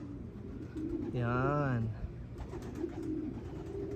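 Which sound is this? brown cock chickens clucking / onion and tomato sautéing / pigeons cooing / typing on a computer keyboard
pigeons cooing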